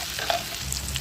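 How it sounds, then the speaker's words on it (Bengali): Onions frying in a pan for chilli chicken, a close, steady crackling sizzle of oil with a few brief sharp pops and light stirring sounds. "পেঁয়াজগুলো ভাজা ভাজা হয়ে গেছে"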